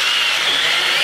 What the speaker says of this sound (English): Got the bit in the hole cutter in the drill.